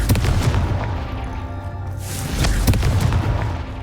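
A loud booming blast from the Confringo fire spell in the video game Hogwarts Legacy, heavy low rumbling impacts with sharp cracks, sustained and dense throughout.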